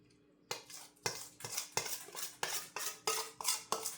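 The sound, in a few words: mixing noodles, peas and sauce in a pan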